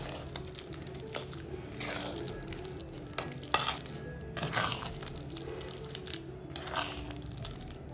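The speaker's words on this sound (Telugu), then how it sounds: "ఇప్పుడు ఇదంతా బాగా కలిపేసుకోవాలి" Cooked elephant foot yam and spinach curry stirred and mashed together in a pan, a close, wet squelching and scraping with soft bubbling and sizzling underneath, continuous and fairly loud without speech.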